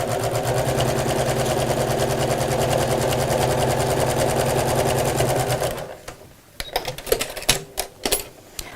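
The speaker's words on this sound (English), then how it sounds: "I've opened up my seam and I'm just top stitching across the edge" A sewing machine top stitching across a laminate messenger bag seam hums in a fast, even rattle for nearly six seconds, then stops, followed by a few sharp clicks and handling knocks.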